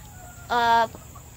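A single guinea fowl in a simple backyard poultry coop gives one short, loud, harsh call up close, standing out briefly from the quiet.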